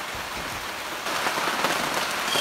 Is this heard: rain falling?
yes